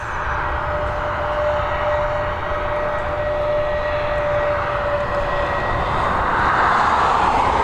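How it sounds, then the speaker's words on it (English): A brand-new Lufthansa Airbus A320neo departs Dublin Airport, its engines a steady, loud broadband roar with a sustained whine that builds slightly toward the end. "a lofty Lufthansa next on departure. She's heading over to Munich, this Airbus A320neo"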